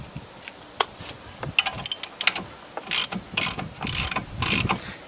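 A bolt with stripped threads turns into a Freetec front hub puller on a Nissan Qashqai, giving irregular ratcheting clicks and metallic ticks that come in bursts, close and fairly loud.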